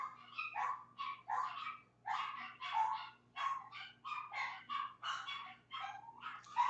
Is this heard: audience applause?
no